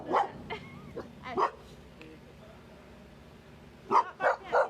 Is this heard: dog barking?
yes